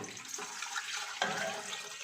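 Two glasses of water are poured into a pot of mutton before pressure-cooking it for mutton karahi, giving a steady, rushing splash that holds for about two seconds with a small surge partway through.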